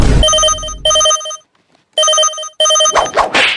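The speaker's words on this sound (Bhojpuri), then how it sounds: "केकर फोन आ रहलू ललित?" A phone rings loudly and close by in three electronic bursts separated by short pauses, followed by rustling handling noise.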